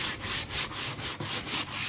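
A brush scrubs paint off a bathroom surface in steady back-and-forth strokes, about eight rhythmic rasping passes in two seconds, close and fairly loud with no voices.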